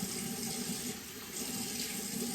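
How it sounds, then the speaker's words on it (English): Running water from a bathroom sink tap splashes steadily and close by for a few seconds, a continuous watery rush as warm water is scooped onto a face, with no voices. "come in here and splash some warm water on it"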